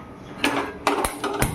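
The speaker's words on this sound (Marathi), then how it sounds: "आपण गॅस पेटवूया." A gas stove burner being lit in a home kitchen: a handful of sharp, close mechanical clicks and snaps in an irregular rhythm, spaced across a second and a half, with no talking.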